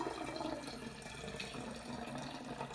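Hibiscus-infused water poured into a kombucha vessel, a steady close splashing and trickling of liquid running throughout with no talk.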